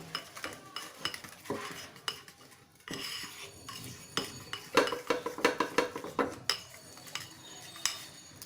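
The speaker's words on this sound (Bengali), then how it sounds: "যেহেতু এটা কাপ কেক তো আমাদেরকে একসাথে সব কিছু ব্লেন্ড করে নিতে হবে" Mug cake batter being stirred in a cup with a metal spoon, a steady run of close clinks and scrapes against the cup walls, quickening into rapid rhythmic taps toward the end.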